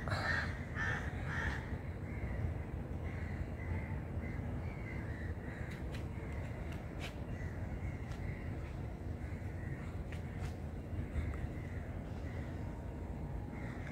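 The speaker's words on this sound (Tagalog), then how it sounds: "So yung mga uwak." Crows caw repeatedly from a rooftop vantage, scattered calls near and far over steady low outdoor hum, with birds flying about and perching on trees and roofs.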